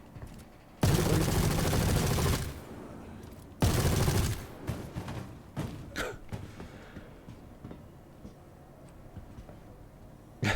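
Gunfire in a video game bunker mission: two long, loud sustained bursts of automatic fire close up, followed by scattered single shots that fade into quieter background noise.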